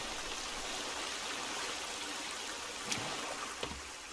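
Water in a forest survival video game flows with a steady, soft, faint rush, like a stream running continuously, with a couple of small splashy clicks near the end.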